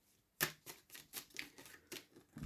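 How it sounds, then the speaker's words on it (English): Quiet, close shuffling of tarot cards: a quick series of crisp taps and flicks in an uneven rhythm, alone without talk. "There we go, there's the shuffle."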